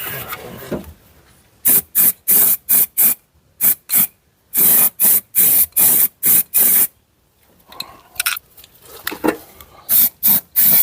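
A spray can hisses in a quick series of short, sharp bursts onto metal car body sheets, loud and close, separated by brief pauses with faint workshop noise.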